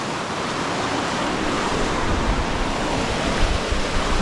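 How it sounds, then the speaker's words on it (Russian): Turbulent river rapids in Karelia, a broad steady roar of rushing whitewater that stays loud and unbroken throughout, with no voices. "Но река реально очень бурноводная. Вот это пороги, я понимаю."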